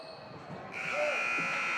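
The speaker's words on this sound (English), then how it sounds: "as you can hear, that is the final buzzer" Final buzzer sounding at a girls high school basketball game, a loud sustained electronic tone that starts partway through and holds steady over arena noise and faint voices.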